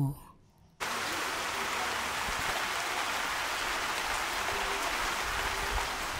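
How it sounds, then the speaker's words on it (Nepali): Steady, dense rainfall hisses evenly on surfaces close by on the Sandakphu trek, starting abruptly after a brief quiet moment and continuing without a break. "त्यो पनि आजदेखि नै पानी पर्न थाल्यो"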